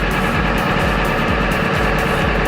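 A 2003 Ford F350 with the 7.3 diesel engine holding a steady high idle, a loud continuous low rumble with a slight rhythmic pulse throughout, no voices present.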